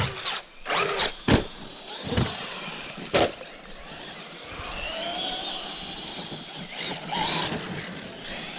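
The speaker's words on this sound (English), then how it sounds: "we're just out here bashing, trying out the truck, the Rustler, breaking her in" A Traxxas Rustler RC truck being driven hard outdoors, its small electric motor whining and revving in surges, with several sharp knocks and bangs from jumps or impacts early on.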